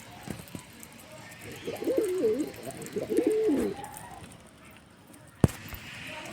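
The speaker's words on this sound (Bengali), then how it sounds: "এই পায়রাটা নতুন এনেছি।" Pigeons, including a newly acquired black one, coo nearby as they are hand-fed; a single soft, rolling coo phrase sounds mid-clip over faint background, followed by a sharp knock near the end.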